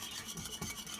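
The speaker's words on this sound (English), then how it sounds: "So we're just going to like stir this all up." Ingredients for a country-style rib sauce being stirred together in a bowl, a soft continuous rubbing and scraping with a faint swirl around the middle, heard alone at low volume.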